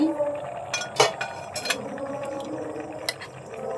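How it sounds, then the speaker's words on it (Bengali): A metal lid is lifted off a cooking pot of palm-seed morabba, with a few bright clinks and scrapes amid quiet kitchen clatter. "আমি এখন ঢাকনা উঠিয়ে ফেলছি।"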